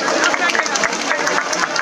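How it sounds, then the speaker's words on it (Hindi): Protest crowd in Kolkata's Park Circus applauding together, a dense patter of many hands clapping close by with scattered voices mixed in. "अपने लिए तालियां बजाइए।"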